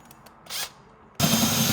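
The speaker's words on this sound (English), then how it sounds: "now I'm going to drill a hole about 1/4 inch, 3/8 of an inch diameter" Power drill boring a 1/4 to 3/8 inch hole in a Dodge Ram truck bed: a short rising whir, then a loud, steady, broadband grinding roar that holds to the end.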